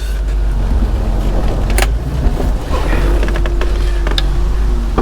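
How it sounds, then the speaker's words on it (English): A Ford Mustang engine runs at a steady idle with a rough, exhaust-leak-like note, close and loud, with a few creaks and mechanical clicks on top. "I know it's not, but it almost sounds like an exhaust leak."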